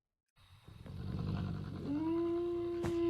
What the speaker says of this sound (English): What is growling, by the way?